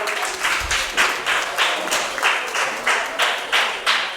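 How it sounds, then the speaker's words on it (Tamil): An audience at a seed-paddy festival gives a rhythmic, even clapping welcome to the chief guest, the claps rising and falling in regular waves, fairly close and loud. "ஸோ எல்லாருமே ஒரு பலத்த கைத்தட்டலோட ராஜாவை வெல்கம் பண்ணலாம்"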